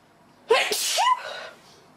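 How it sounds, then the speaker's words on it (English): A single sharp sneeze, close and loud, with a quick intake of breath before the burst and a short fading exhale after. "I'm going to sneeze."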